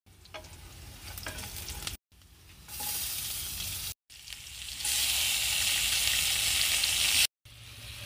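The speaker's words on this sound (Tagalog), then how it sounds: "igisa na natin yung bawang, sibuyas at yung ating kamatis" Garlic, onion and tomato sautéing in a pan for spaghetti with sardines, a loud steady sizzle that swells as ingredients hit the oil, with stirring noises and brief silent gaps.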